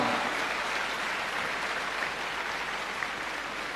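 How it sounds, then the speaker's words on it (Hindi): A school award ceremony audience claps steadily for an honoured student, a dense even wash of applause continuing for the whole stretch at moderate volume with no voices on top. "अब आरती के लिए जोरदार तालियां"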